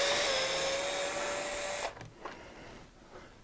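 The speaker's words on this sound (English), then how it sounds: "Anytime y'all are tightening these screws back up into plastic, be sure not to tighten them too tight or they will strip." A power driver runs steadily for about two seconds, tightening screws back into the plastic lower arm of a Traxxas XMaxx RC truck, with a close, even whine that stops abruptly and leaves faint handling clicks afterward.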